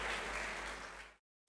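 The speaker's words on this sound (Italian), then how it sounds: "Io direi un applauso a Marco" A crowd applauds steadily for about a second before the clapping cuts off abruptly.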